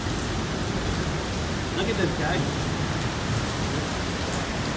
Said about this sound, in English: Oh, it's getting windy and rainy and watery.